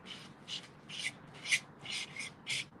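Sanding block rubbing back and forth over chipboard in a craft class: six evenly spaced rasping strokes, close and fairly quiet, each a short scratchy swish with brief pauses between.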